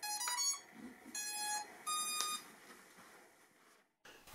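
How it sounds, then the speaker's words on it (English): A few short electronic beeps from an HS720e drone powering on sound close by in quick pairs against a quiet background, then the sound cuts off. "Turn on the drone and wait for the double beep."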